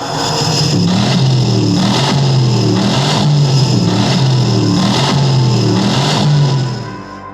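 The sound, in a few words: car engine started and revving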